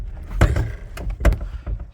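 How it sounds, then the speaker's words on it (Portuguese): The rear seat of a Volkswagen Saveiro pickup fitted with a car audio system is lifted, giving a few dull thumps and muffled knocks of the seat frame and trim, close by. "deixa eu erguer esse outro banco aqui"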